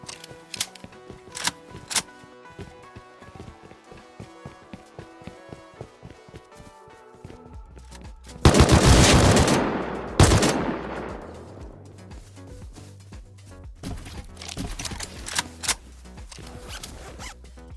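Rust video game AK rifle fire, a few sharp isolated shots early, then a loud burst around the middle with a booming report, followed by scattered quicker shots, mixed with other game sounds.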